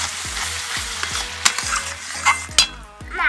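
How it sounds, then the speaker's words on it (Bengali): A spoon stirs fish korma with yogurt and salt in hot oil, scraping the pan in a steady rhythm over continuous sizzling, with a few louder clinks near the end; no one speaks. "এবার সব কিছু ভালোভাবে তেলের সাথে নেড়ে নেব"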